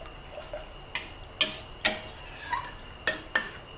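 A spoon stirs pork in coconut milk simmering in a pot, giving about eight light, sharp metallic clinks and taps against the pot at uneven intervals over a quiet bubbling background, close and fairly soft, without talk.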